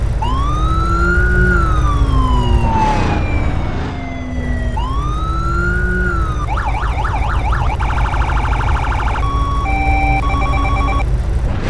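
Police Dodge Charger siren from Need for Speed, played in Garry's Mod: loud continuous wailing sweeps with a brief dip, then rapid yelp, warbling and stepped electronic tones cycling through modes, no voices.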